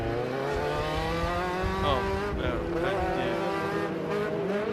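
Short course off-road race vehicles, Pro Buggy class, pulling away after the green flag at the Great American Short Course, engines revving and shifting up in rising tones as they accelerate, with a voice briefly heard over the steady roar.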